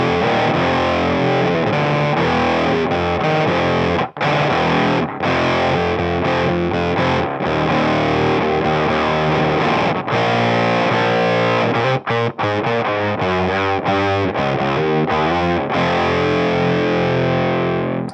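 An electric guitar played through a Mythos Argo octave fuzz pedal gives a thick, organ-like distorted tone, with continuous loud chords and notes ringing for the whole stretch and short gaps between phrases.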